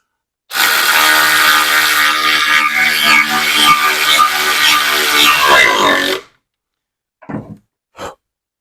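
Power drill boring pilot holes for a Harbor Freight 30 inch brake, one loud continuous run of about six seconds with a whining motor, followed by two brief soft knocks.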